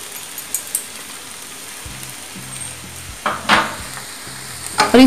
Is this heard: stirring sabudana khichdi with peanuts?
yes